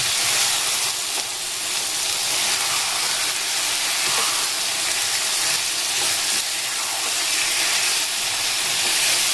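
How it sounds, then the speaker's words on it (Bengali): Chicken being mixed and fried in a pan for chicken kanti, a steady, loud sizzle and hiss running unbroken throughout, with no voices. "এবার আমি খুব ভালো করে মিশিয়ে একটুখানি কষিয়ে নেব"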